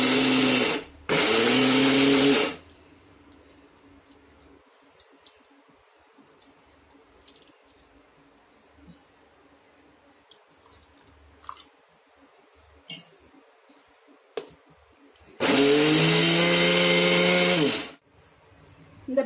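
Mixer grinder jar grinding coconut chutney, two loud close whirring bursts of a couple of seconds each at the start and again near the end, separated by quiet with faint clicks and handling noise.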